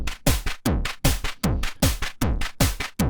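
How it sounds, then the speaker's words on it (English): Novation Circuit Mono Station synth played as an analog drum machine with per-step patch changes, giving a steady run of about ten punchy hits with falling-pitch thumps and noisy tails, each sounding slightly different, loud and alone. "Pretty good. It's like an analog drum machine."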